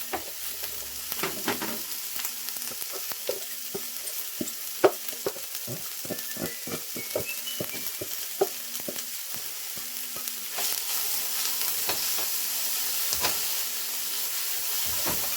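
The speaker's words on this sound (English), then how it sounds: "I just sliced up all the mushrooms, the 8-ounce container mushrooms, and then the 1 onion. And we're just going to saute" Sliced mushrooms and an onion sautéing in a pan, a close hissing sizzle with a run of quick spatula taps and scrapes in the middle, steady and alone.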